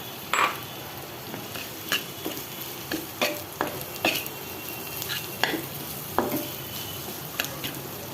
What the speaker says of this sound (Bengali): এখন আমি এটার মধ্যে যত সব মশলা আছে সব দিয়ে দিচ্ছি।